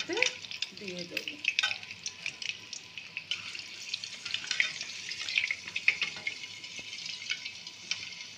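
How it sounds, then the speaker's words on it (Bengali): Sweet samosas frying in hot oil, a steady soft sizzle and bubbling with occasional faint clinks and a brief low voice early on, close and fairly quiet throughout. "আমার সিঙ্গাড়াগুলো, মিষ্টি সিঙ্গাড়াগুলো ভাজা হয়ে গেছে"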